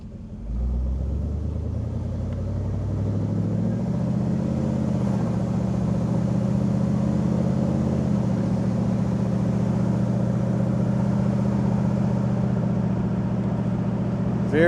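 A 1969 Chevelle SS396 convertible with a 4-barrel carburetor drives under load, its engine a steady, loud, low rumble that climbs in pitch as it accelerates and then holds a constant drone throughout.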